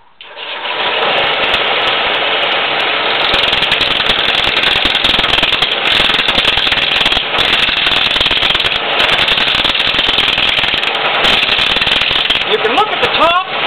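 A sharpened turning tool roughs out a workpiece on a lathe, producing a loud, continuous rattling and chattering cut that runs steadily from start to finish.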